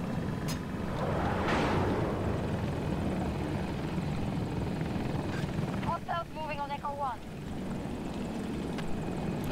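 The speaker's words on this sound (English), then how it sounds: "there's a second helicopter helping" A Battlefield 2042 helicopter drones with a steady rotor thrum throughout, joined by bursts of in-game effects and short electronic beeping tones, while a voice talks over it.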